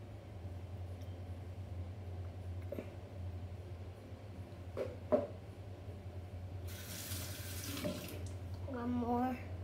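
Water runs from a tap into a container for a soap-water experiment, a steady low rush with a few knocks and splashes, then a brief louder burst of flow near the end.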